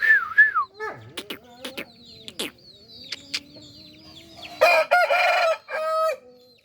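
A rooster crows loudly nearby, with clucking and other fowl calls around it in an open yard on a country rooster farm.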